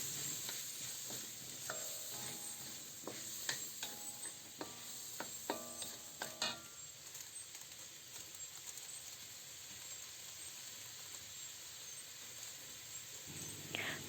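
Chayote and ground chicken with crushed pepper stirred in a pan: quiet steady sizzle with a burst of repeated scraping and tapping clicks in the first half, then mostly even hissing.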